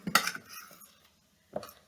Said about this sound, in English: mixing up my ingredients in a bowl and then dumping them in the pan